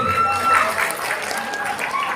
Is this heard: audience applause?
yes